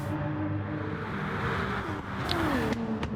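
Porsche Supercup race cars in Gran Turismo Sport: a steady, loud blend of several engines roaring at high revs, with pitch sliding as cars shift and close in, continuous throughout without talk.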